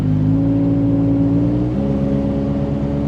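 A supercharged third-generation Toyota 4Runner engine hums and revs loudly from inside the cabin, holding a steady tonal whine with a slight pitch shift partway through and no voices.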